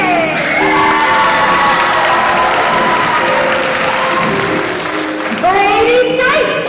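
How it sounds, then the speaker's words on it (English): An audience at a middle school spring choir concert applauds and cheers, a sustained wash of clapping with whoops and children's shouts, as a voice calls out names over it. "us in celebrating them with a round of applause."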